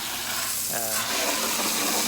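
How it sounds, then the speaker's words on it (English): Hose water splashing into a bucket being rinsed out before car cleaning, a close, steady hiss and gurgle of spray lasting about two seconds. "the first thing I like to do is try to rinse out the bucket real good"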